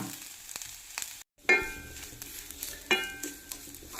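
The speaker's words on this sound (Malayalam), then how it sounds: "അപ്പോൾ നമുക്ക് ഈ തേങ്ങ ഇനി ഒന്ന് നന്നായിട്ട് വറുത്തെടുക്കാം" Grated coconut roasting in a pan for a curry masala gives a quiet, close sizzle with scraping stirs and a couple of sharp clinks from the utensil against the pan.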